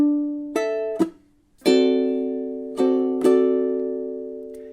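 Ukulele blues strumming: a few separate strums ring out close and clear, with a short gap after the second and long sustained decays between the later strokes.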